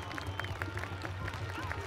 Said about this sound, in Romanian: către cei care nu filmează, rog aplauze